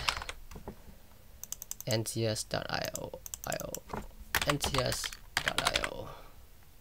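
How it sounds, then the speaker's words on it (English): Fast bursts of typing on a computer keyboard, irregular clusters of close, crisp key clicks with short pauses between them, and a voice speaking briefly at the start. "Type in music credits."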